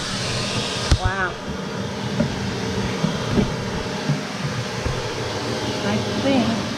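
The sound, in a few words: vacuum suction cleaning an RV air conditioner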